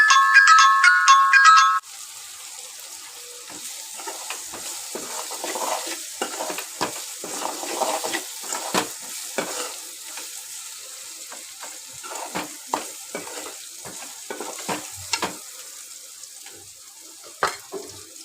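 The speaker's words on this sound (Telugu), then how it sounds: "అల్లం ఉల్లిగడ్డ పచ్చి వాసన పోయేంత మట్టికి బాగా కలుపుకోవాలి" Ginger and onion fry in a pan for a gongura dish while being stirred, giving scattered crackles and scraping clicks at close range after a brief electronic ringtone-like chime at the start.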